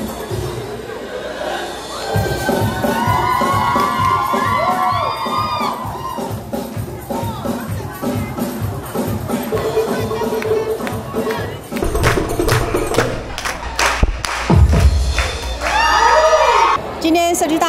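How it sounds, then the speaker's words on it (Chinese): An audience at a dance performance during a Keelung community college end-of-term showcase cheers and shouts continuously, a busy crowd roar with whoops and voices layered over music and nearby talking. "尤其在舞蹈团体的表演，台下观众的掌声加油声不断"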